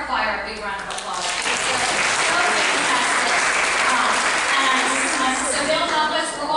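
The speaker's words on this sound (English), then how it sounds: "Let's give our choir a big round of applause." A synagogue senior program audience applauds the choir with a loud, sustained wash of clapping that swells and holds steady, with crowd voices mixed in.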